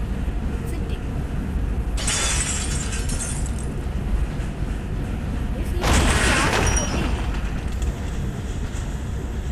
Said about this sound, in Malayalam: പോകുന്നു, വണ്ടി ഇടിക്കുന്നു